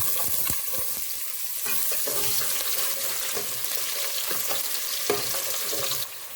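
Chopped onions sizzling and crackling in vegetable oil in a pot for Nigerian jollof stew, a steady close frying hiss with small pops and a brief stir near the end.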